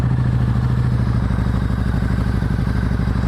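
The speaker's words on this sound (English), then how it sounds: "It is a fuel injected bike. Fire it off and give it a listen." A 2009 Harley-Davidson V-Rod with a fuel-injected engine runs steadily at idle nearby, giving a loud, even, throbbing rumble with no voices.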